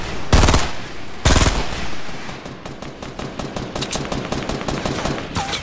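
Gunfire in Fortnite Battle Royale during a duo versus squad match: two heavy blasts early on, then a rapid stream of automatic shots that keeps going to the end, loud and close.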